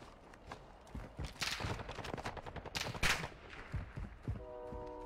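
Video game gunfire rattles in rapid bursts and single cracks, loud and close, over a busy background with a tonal game chime near the end.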